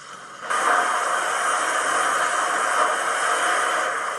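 A loud, steady steam hiss from a model Hornby Black 5 steam locomotive blowdown bursts on and holds for several seconds, broad and airy like a locomotive venting pressure, with no voices.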